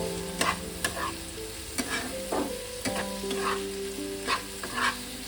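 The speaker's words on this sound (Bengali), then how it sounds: "এবার আমি এটাকে ভালো করে এই মশলাটা দিয়ে নেড়ে পুরটা তৈরি করে নেব।" Paneer sandwich filling being stirred with spices in a pan, a spoon scraping and clacking in repeated strokes over a steady soft sizzle, close and clear with no talking.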